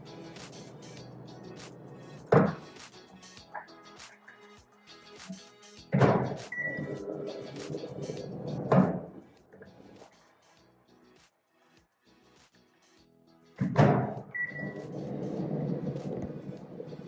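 A microwave oven door thunks open and shut several times as a dish of salted peanuts is taken out, shaken and put back, with quiet rattling and faint hum between the sharp clunks.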